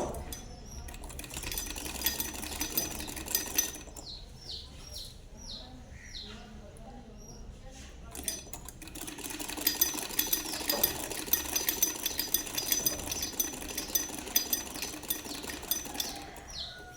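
Sewing machine stitching the seat panel of a belted shalwar, running in bursts with a pause between about 4 and 8 seconds, close and steady, with faint bird chirps in the background.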